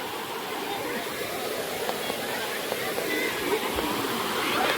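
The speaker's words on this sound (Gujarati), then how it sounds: "એક જાતનો વોટરફૂલ જ ગણાય. જોઈ શકો છો પાણી." Spring water at the Kedariya Mahadev temple in Jesar pours down like a small waterfall, making a steady, close rushing wash with faint voices in the background.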